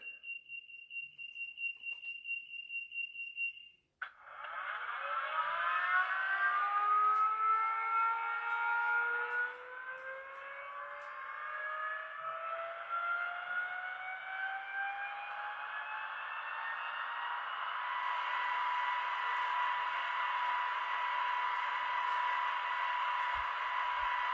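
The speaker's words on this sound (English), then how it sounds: "So you hear the whirl of the motor there." A steady electronic tone cuts off, then the motor of a Rapido N scale Amtrak RTL Turboliner DCC model train whirs up with a rising whine that settles into a sustained, even hum, close and clear.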